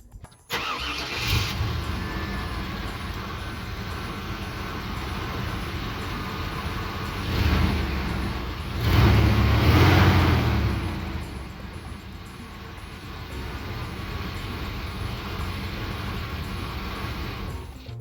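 A 1994 Chevrolet K1500 Silverado's 350 5.7-liter V8 cranks and fires, swelling to a louder rev before settling into a steady, rumbling idle heard up close.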